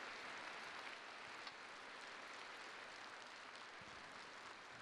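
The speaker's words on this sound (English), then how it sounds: "Alexander Zulin leading the applause." Steady applause from a large crowd at an ice dance rhythm dance competition, a continuous wash of clapping at an even level throughout.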